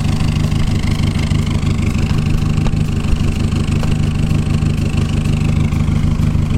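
A Peugeot 206 fitted with an Inox Ragazzon stainless full exhaust line runs warm at a steady idle, its loud, close, deep drone unbroken throughout.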